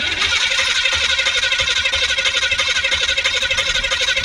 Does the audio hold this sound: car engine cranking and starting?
yes